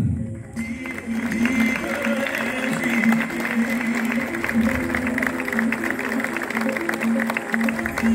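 Steady applause from an audience at a graduation ceremony for an Argentine army agrotechnical school, greeting a graduating technician. The clapping is continuous and even, with a faint tone sustained beneath it and no speech over it.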